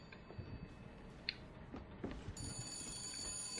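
A telephone rings in the game Bioshock Infinite, a faint bell-like trill repeating a few times against quiet background game ambience, with a brighter sustained tone entering toward the end.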